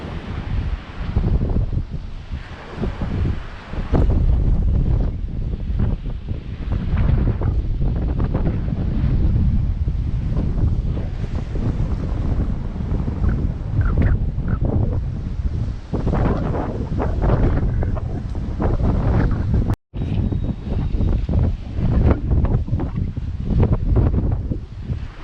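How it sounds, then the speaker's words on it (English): Strong wind buffets the microphone while waves crash against rocks along the Santa Ponsa coast, a loud continuous roar with surging bursts of surf and a brief dropout near the end. "Waves are really impressive, bashing against the rocks."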